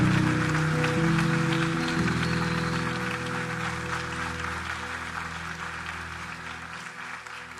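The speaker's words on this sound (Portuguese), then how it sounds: "aplauda ao Senhor o mais forte que você puder" Church congregation applauding loudly during a live service, a broad wash of clapping over sustained music that slowly fades in strength.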